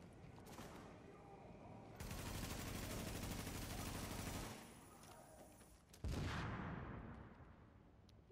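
Sustained bursts of automatic gunfire in The Division, a broadband rattling barrage running for several seconds, pausing, then a sharp loud volley that tails off; faint voices sit underneath.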